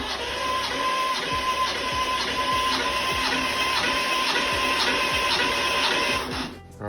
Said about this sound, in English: Compression test on the 1971 Thing 1600 dual port motor.